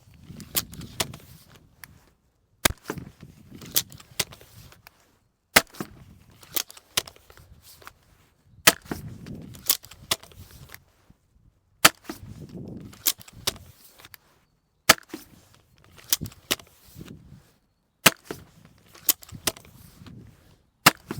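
Cobra Adder crossbow firing repeatedly from its magazine, sharp close snaps each followed by cocking clatter and rustle, about seven shots spread evenly with short gaps.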